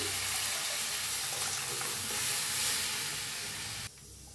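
Buttermilk for kadhi pours into a pan of hot turmeric-spiced tempering, producing a continuous watery rush with hissing sizzle that cuts off abruptly near the end.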